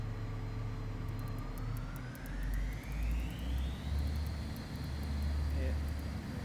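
A Learjet 35A in Microsoft Flight Simulator 2020 whines steadily on approach to landing, its jet engine tone rising in pitch over a low rumbling drone with faint rattling clicks, under a voice.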